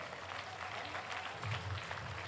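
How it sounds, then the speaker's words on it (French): Spectators at an equestrian show featuring draft breeds such as Boulonnais, Norman Cob and Percheron keep clapping, a soft, distant, continuous patter of hands. "applaudir, applaudir et applaudir encore plus fort pour tous les faire revenir"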